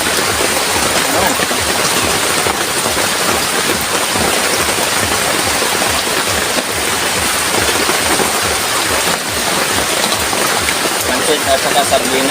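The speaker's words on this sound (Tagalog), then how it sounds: "napakalakas po yung ulan dito sa aming mga katibog" Heavy rain pours down in a steady, loud, unbroken hiss that is close and constant, with no pause throughout.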